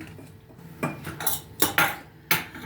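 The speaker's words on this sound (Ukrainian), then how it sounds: "Ану, зараз трошки вимішаємо" A spoon scrapes and clinks against a bowl of semolina in a few sharp strokes with pauses between, close by, while a quieter mixing rustle continues underneath.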